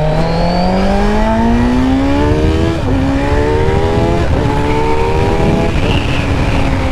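A Kawasaki Z900 with an aftermarket 4-into-1 stainless steel exhaust revs hard through repeated gear changes, loud, each climb in pitch cut short by a brief dip before rising again.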